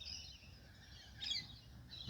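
Australian King Parrots call faintly in the distance, a few high thin whistles and chirps rising out of quiet outdoor background.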